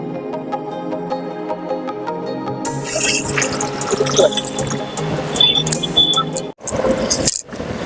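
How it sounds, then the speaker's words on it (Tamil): Coconut milk pours into a large pot for coconut rice being made in a 5 kg batch, a steady liquid splash and gurgle that starts partway through over a background hum, broken by a brief pause. "தேங்காய் பால் ஊற்றிக்கலாம்."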